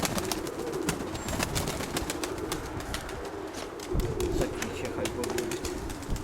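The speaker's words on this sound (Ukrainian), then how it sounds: "Ні, це голуб і голубка." A pair of pigeons, a cock and hen dove, coo softly and repeatedly close by amid ambient outdoor noise, with some low background voices.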